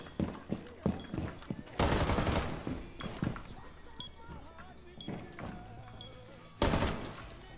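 Gunfire punches through a wall in Rainbow Six Siege, with two loud sustained bursts of rapid shots separated by quieter stretches of short thuds, game sounds and talking voices.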